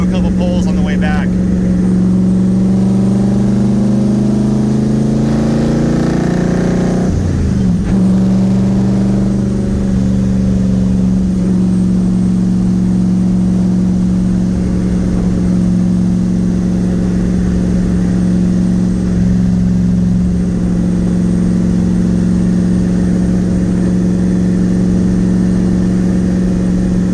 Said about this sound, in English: turn around and do a couple pulls on the way back.